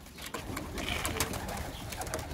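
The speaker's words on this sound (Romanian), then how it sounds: "Porumbeii cred că sunt și ei înfometați." Pigeons coo softly and steadily at close range outdoors, a low continuous burble with a few brief chirps and flutters mixed in, no one talking.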